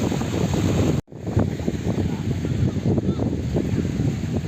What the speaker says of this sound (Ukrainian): Вітер такий, прохолодно